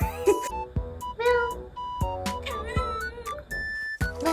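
A house cat meows several times close up in a series of short chirpy cries, with soft knocks and shuffling between the calls.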